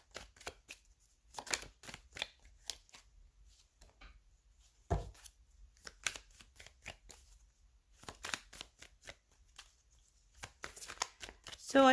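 Tarot cards are shuffled and laid on a table in bursts of riffling and soft slaps, close and fairly quiet, with short pauses between flurries.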